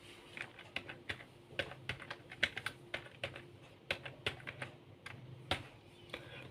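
Arduino code being typed on a computer keyboard, with quick irregular bursts of soft key clicks at moderate distance over a faint steady hum.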